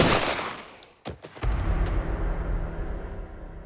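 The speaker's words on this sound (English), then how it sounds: "A shot rang out." A single sharp gunshot cracks out at close range, a loud broadband burst followed by a lingering rumbling tail and low background noise, with no voices.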